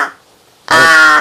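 A large black crow gives one loud, harsh, drawn-out caw close by, following a fainter call at the very start.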